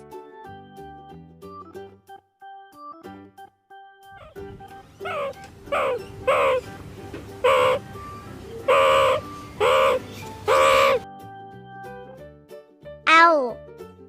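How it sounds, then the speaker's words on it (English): Meerkats give a run of short, sharp calls in quick bursts over soft background music, followed by a single rising call near the end. "Meerkats."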